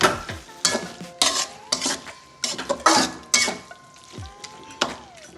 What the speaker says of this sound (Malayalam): ഇത് നമുക്ക് ഇളക്കാം.